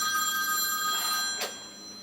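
A telephone bell rings with bright, sustained tonal peals for about a second and a half, fairly close and clear, followed by a short clatter as the ringing stops, with no talking over it.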